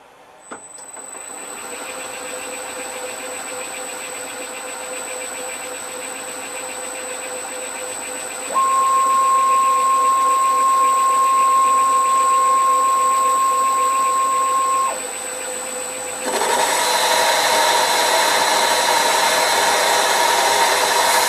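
A Myford Super 7 lathe makes a finishing pass on EN8 steel: a steady machine drone with a sustained tonal whine, rising louder midway, dipping briefly, then returning with a brighter, harsher cutting hiss.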